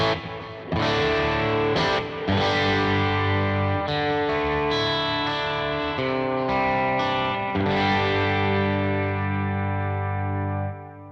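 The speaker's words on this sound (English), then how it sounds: "I can also bring in the delay pedal, this DD200, by switching on the effects loop" Electric guitar played through stereo BluGuitar Amp1 Mercury and Iridium amps with a DD200 delay pedal in the effects loop, sustained distorted chords ringing with echoing repeats, loud and continuous with no talking.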